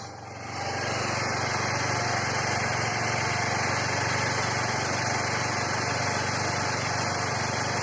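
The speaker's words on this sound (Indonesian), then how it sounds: "Kita panasi supaya mesinnya hangat. Harapannya oli juga bersirkulasi." An automatic scooter's engine starts and settles into a steady idle while warming up before an oil change, a constant close buzzing drone with a faint whine that holds evenly throughout, with no one speaking.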